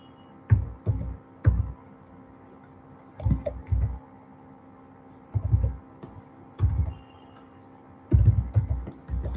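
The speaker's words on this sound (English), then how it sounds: "I'm typing the number which you can contact it later." A phone number being typed on a computer keyboard: short clustered bursts of clacking keystrokes separated by brief pauses, close and fairly quiet, no talking.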